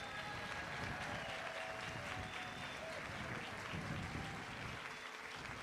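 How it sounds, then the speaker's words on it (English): Applause from the audience at an airport terminal groundbreaking ceremony in San Antonio, honoring the airline and cargo partners; steady, dense clapping from a crowd, fairly distant and even throughout. "give them a big round of applause to all of our airlines"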